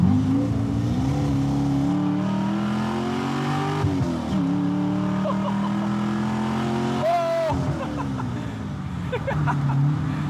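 LS-swapped widebody Porsche 911 accelerating onto a highway, heard from inside the cabin: a loud, continuous V8 engine roar that climbs steadily through the gears, with brief drops at the shifts, and a voice speaking underneath.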